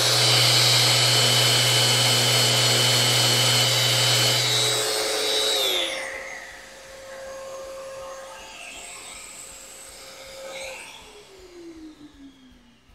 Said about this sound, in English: We sand this one here.